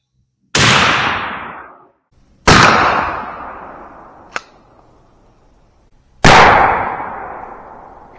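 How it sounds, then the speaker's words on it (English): A 12 gauge Remington 870 shotgun fires Rio 00 buckshot outdoors, three loud close blasts a couple of seconds apart, each trailing off in a long echoing decay, with a brief faint click between the second and third. "Here's shot number 1 with the Rio double aught buckshot."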